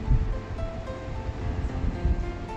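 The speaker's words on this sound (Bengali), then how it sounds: "এবারে ঝোলটা ফুটে উঠছে।" Taro curry broth simmers to a boil in a pot, a faint, steady bubbling rush with occasional soft pops, close by and without speech.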